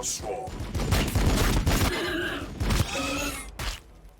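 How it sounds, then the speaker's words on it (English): Bolter gunfire in a Warhammer video game: dense, continuous bursts of heavy shots and impacts with debris crashing, loud and layered throughout. "The sound for the bolter is great."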